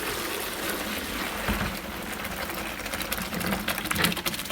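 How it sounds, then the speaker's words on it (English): Boiling water being poured off cooking rice for chicken biryani, a steady, rushing pour that continues without a break for a few seconds, close and fairly loud, no talking. "I dump the water out."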